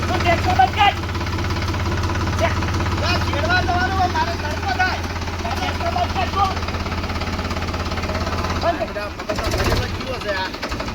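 A tractor engine idles with a steady low chugging rumble close by, while people talk loudly over it throughout.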